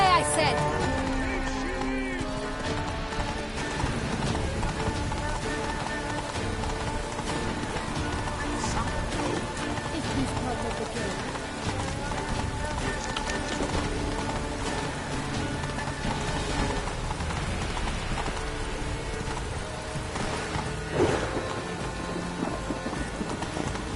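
Roach, Geralt's horse in The Witcher 3: Blood & Wine, gallops with rapid rhythmic hoofbeats beneath a busy game soundtrack and ambient noise, fairly quiet and continuous throughout.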